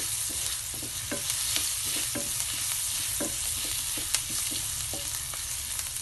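Onions fry for tuna sisig in a pan, giving a steady close sizzle broken by repeated quick scrapes and taps of the spatula as they are stirred.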